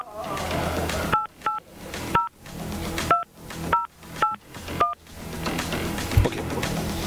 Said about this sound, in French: On s'en va au téléphone et on appelle la personne peut-être finaliste ce matin.